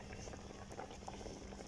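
Meat cooking slowly in its own released juices in a covered pot over very low heat, giving a steady close bubbling and sizzling hiss with no voices.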